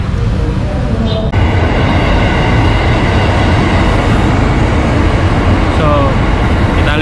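A train at a station rumbles loudly and steadily up close, with faint voices and brief squeals over the continuous noise.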